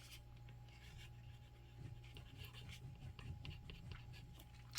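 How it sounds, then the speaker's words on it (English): A pen writes on the back of a yellow card with black splatter, giving a soft, steady scratching that runs quietly and continuously, close and faint, with no talking. "On the back of my card, I've been writing what week it is."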